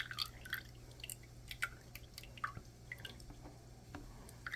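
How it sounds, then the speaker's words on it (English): Whey dripping from butter churned from heavy whipping cream, a steady series of small close drips and wet squishy splats over a low hum, quiet and without speech. "For the price of butter, I'm going to get every little drip."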